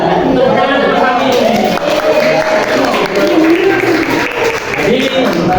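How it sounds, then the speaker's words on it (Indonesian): Classroom audience claps for a student after a micro-teaching presentation, a steady patter of hands mixed with voices and chatter throughout, fairly loud and close. "Tepuk tangan untuk Mas Fahmi."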